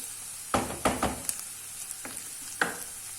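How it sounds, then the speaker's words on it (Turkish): Chopped green peppers roasting in a pan for alinazik kebab, sizzling softly while being stirred; several sharp scraping, clattering strokes of the utensil rise over the quiet frying hiss. "Bir 5 dakika kadar da biberlerimizin kavrulmasını bekliyoruz."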